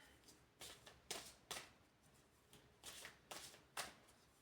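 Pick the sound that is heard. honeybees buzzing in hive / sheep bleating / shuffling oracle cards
shuffling oracle cards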